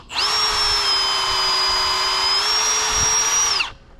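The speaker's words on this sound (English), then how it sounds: "Milwaukee drill." A Milwaukee power drill runs a brand-new bit through a hole for hub-and-spoke cable on a Majestic Giant, a steady, close high whine lasting about three and a half seconds, its pitch rising slightly near the end before stopping.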